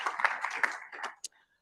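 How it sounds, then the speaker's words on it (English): A conference audience gives a short, sparse round of clapping, a handful of claps close together over about a second before it dies away into quiet. "A round of applause for you on time."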